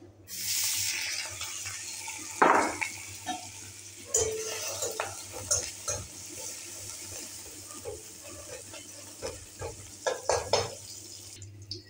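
Ginger and green chili hitting hot oil with mustard seeds in a wok, a steady sizzle broken by scraping stirs and clinks of a utensil against the pan, close and moderately loud.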